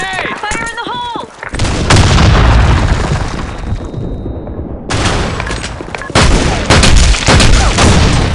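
A grenade explosion in the Black Shot shooter game, a loud booming blast amid heavy gunfire and rattling fusillades. Shouted voices are heard early in the clip.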